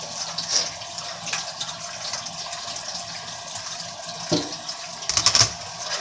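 Tap water runs quietly while a knife is rinsed off at a kitchen sink, a soft steady gush with a few brief clinks and splashes, faint and without speech.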